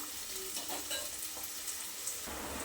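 Onion fries in a pan for a quick soya pulao, a dense, continuous sizzle at steady loudness with soft stirring scrapes running through it. No one speaks.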